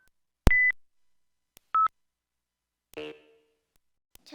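Short electronic dialing tones from a PT-S140 system, several separate beeps spaced about a second apart, clean and alone against silence.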